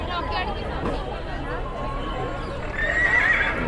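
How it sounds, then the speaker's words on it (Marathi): A mechanical horse pulling a decorative carriage at Mumbai's Kala Ghoda art festival gives a loud whinny over a busy, chattering crowd, with clip-clop sounds in the mix. "घोडा मध्ये मध्ये ओरडते."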